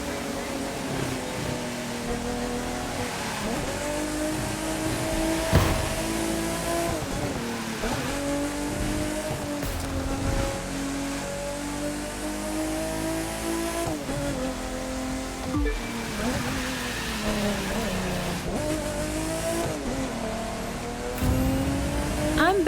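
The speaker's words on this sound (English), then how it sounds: "I love working on classic cars like this one." A classic touring car's engine drones and revs through repeated gear shifts during a race in the video game The Crew 2, loud and continuous, with rising pitch sweeps and occasional thumps, no talk.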